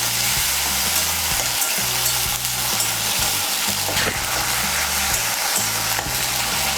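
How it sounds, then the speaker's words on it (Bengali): A spice paste of ground ginger and spices, loosened with a little water, fries in a pan with a loud, continuous sizzle. Steady low tones run underneath. "এখন আমি মশলাটাকে একটু কষিয়ে নেব।"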